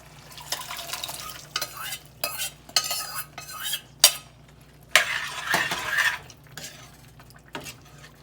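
Chickpeas stirred into thick gravy in a cooking pot, with repeated close scraping and clinking of a spoon against the pot and soft wet squelches in uneven bursts, including a louder stretch of scraping partway through.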